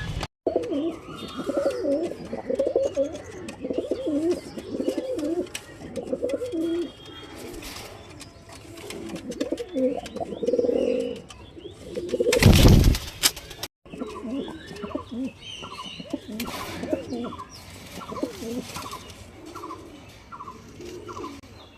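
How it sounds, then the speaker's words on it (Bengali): Pigeons coo repeatedly in soft, throaty bursts close by, with scuffling and a brief loud clatter midway; no speech. "চলো আগে পায়রাগুলো জল দিই"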